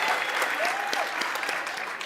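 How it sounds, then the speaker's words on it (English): An audience at a 2025 anti-corruption summit panel applauds: brisk, continuous clapping from a crowd, moderately loud and sustained through the brief moment, with a faint voice underneath. "you must give him a round of applause"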